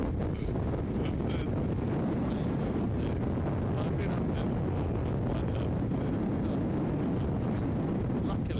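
Strong wind buffets the microphone in a constant low roar, with a voice faintly audible beneath the rumble.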